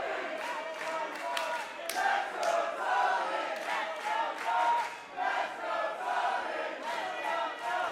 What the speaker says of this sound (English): This crowd not giving up on Tony.